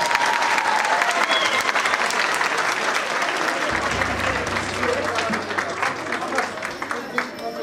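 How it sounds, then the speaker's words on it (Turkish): Crowd applause at a Turkish Mehter military band performance in Ankara, steady dense clapping that gradually thins, with some voices and a low hum entering partway through. "Aminse o zaman bir alkış daha geliyor mu?"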